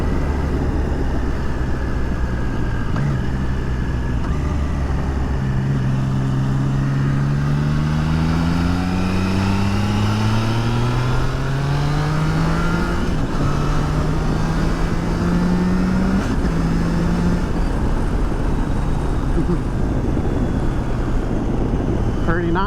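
A Triumph Tiger Sport 660 triple-cylinder motorcycle engine while riding, rising and falling through several gears under constant wind roar, with a rider talking over it.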